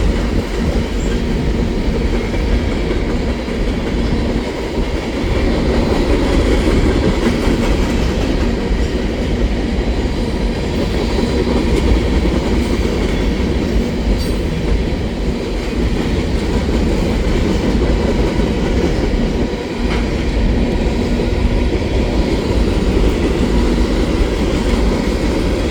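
A CN freight train rolls steadily past at Marshal Ave and Dorval, a loud, sustained rumble of wheels and cars with faint clicks and squeals and no talk, holding constant for the whole stretch.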